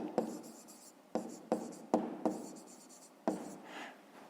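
A pen scratches across paper while writing out a fifth-grade math solution, several distinct strokes and taps in a quiet room, with short pauses between them.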